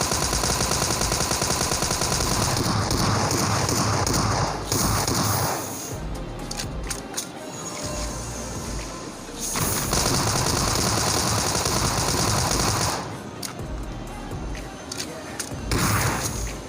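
A Tommy gun fires in PUBG Mobile gameplay: loud rapid automatic bursts come in several rounds separated by brief pauses, with faint game sounds in between.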